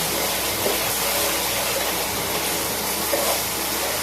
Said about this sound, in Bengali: রসুন টমেটো এবং লঙ্কা দিয়ে যে পেস্টটা বানিয়েছি সেটা খুব ভালো করে নাড়াচ্ছি